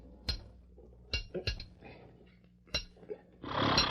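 A hammer drives nails into a horseshoe beside a forge, with several sharp, distinct metallic strikes spaced irregularly and heard close by, followed by a short burst of noise at the end.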